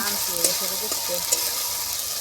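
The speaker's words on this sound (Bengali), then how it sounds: "ভালো করে নেড়ে মিশিয়ে নিচ্ছি আর একটু ভাজা হলেই" Loud, continuous sizzle of a spice paste frying in a pan for rohu fish kalia, with scraping strokes of a spoon stirring through it.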